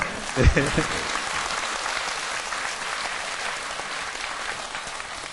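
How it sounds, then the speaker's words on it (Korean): Temple audience at a Sunday Buddhist dharma service applauding, sustained crowd clapping at a moderate, even level throughout, opening with a short spoken word over the start. "박수 한번 쳐주세요"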